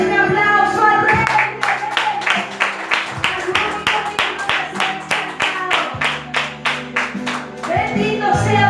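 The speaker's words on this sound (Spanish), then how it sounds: "Den un aplauso al Rey." A church audience applauds, the clapping rising from scattered claps into loud, dense, rhythmic clapping that holds steady for several seconds before tapering off as voices return.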